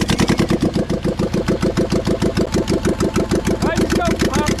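A poorly maintained Magnum engine turning over with steady rapid chugging pulses, loud and close, running unevenly throughout.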